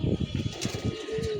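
Pigeons coo in a quick run of soft, low pulsing calls close by, with a voice speaking faintly over them.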